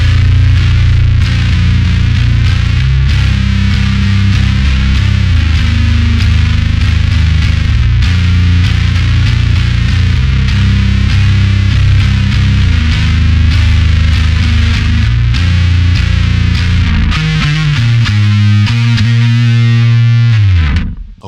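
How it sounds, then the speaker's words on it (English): Loud, heavily distorted bass guitar plays a thick, sustained riff, with a buzzing, fuzzy tone that rings out and trails off at the end. "we're going to extend it out a little bit and throw the distortion back on"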